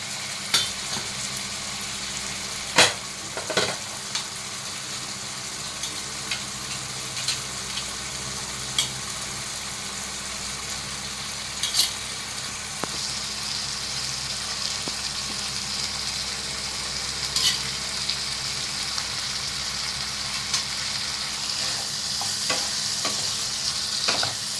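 Fried pointed gourd sizzles gently in a pan with warm garam masala, steady and moderately quiet, with scattered sharp clinks and scrapes of a spoon stirring it. There is no talk.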